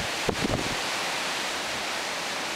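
Steady broadband wind roars across the summit of Blue Mountain Peak at sunrise, buffeting the microphone with a constant rushing hiss, with a few brief low thumps near the start.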